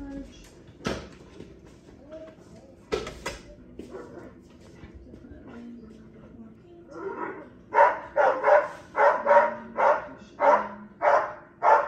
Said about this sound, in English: Navy barking at Rossi for barking at Nigel